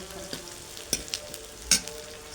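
Onions fry in a pan with a low, steady sizzle, broken by a few brief clacks of stirring.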